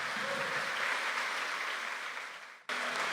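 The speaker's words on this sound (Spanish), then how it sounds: "Dale ese aplauso fuerte a Cristo, pues." A church congregation applauds during a service, a steady wash of clapping that fades and then cuts off abruptly near the end, leaving quieter room sound.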